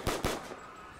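Two quick gunshots in Black Ops 3 custom zombies on a Pirates of the Caribbean map, sharp close cracks in fast succession followed by a fading tail.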